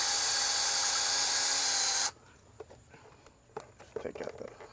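A power drill backs long screws out of an outdoor light fixture bracket, a loud steady whine for about two seconds that cuts off abruptly, leaving quiet handling clicks and faint rustling.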